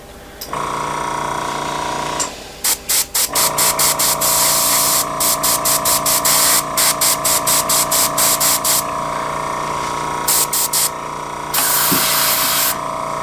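An airbrush spraying paint to weather an N scale model locomotive hisses in a long series of short, rapid bursts, with brief pauses between sprays and a steady background hum.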